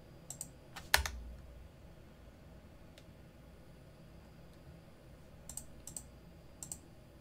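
Someone types on a computer keyboard in short, scattered bursts of crisp clicks, one sharp burst early and a few more near the end, with quiet room hiss in between.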